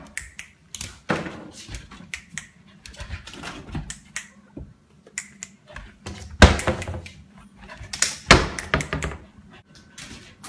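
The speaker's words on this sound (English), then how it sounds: "Chunky, close the drawers." A dog closes drawers on command during a training session, giving a series of irregular wooden knocks, thunks and sliding bumps, some sharp and loud, with quiet gaps between them.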